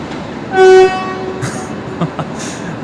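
Train near Brisbane Airport at night sounds a loud, steady horn blast held for about a third of a second, followed by fainter rumbling and hissing of rail traffic in the background.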